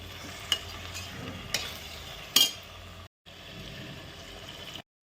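A chicken biryani mixture with potatoes, already fried in oil, is stirred in a pot, a quiet continuous sizzle with a few sharp utensil scrapes and clinks against the pot, and a brief cut to silence.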